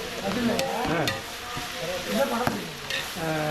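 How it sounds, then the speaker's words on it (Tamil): Onions being sautéed in a large pot for a forty-serving drumstick kara kulambu, giving a constant sizzle with stirring scrapes and clanks, and a voice speaking over it. "வெங்காயம் வதக்குறோம்."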